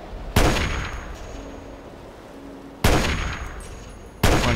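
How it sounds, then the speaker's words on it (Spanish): Three sharp gunshots in Fallout 3's Operation: Anchorage add-on ring out, evenly spaced, each a loud crack followed by a fading metallic echo. "dos tiros seguidos fallados"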